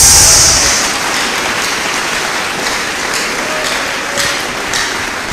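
A church congregation claps and cheers at a French-language service, the applause loudest at the start and then settling into a sustained, fainter patter with scattered sharper claps.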